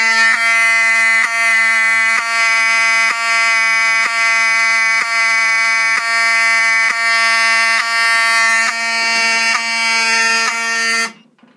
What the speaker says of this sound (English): Alarm silenced.